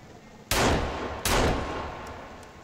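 Two loud, close gunshots from the survival video game Sons of the Forest ring out about three-quarters of a second apart, each with a booming tail that fades away, followed by a couple of faint clicks.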